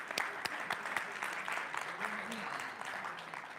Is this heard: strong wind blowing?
no